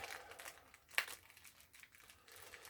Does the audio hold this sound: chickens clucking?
no